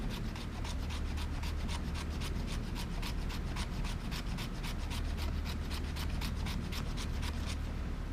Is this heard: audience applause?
no